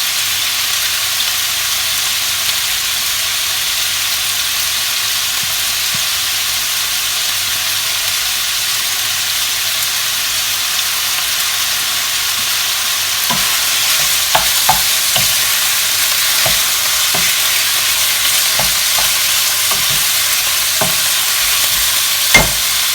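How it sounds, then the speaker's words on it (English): A pan frying gently on low heat for a chicken casserole gives a soft, steady hiss. Faint ticks and crackles begin about halfway through, and no one speaks. "Put that on a low heat to fry to see it a bit."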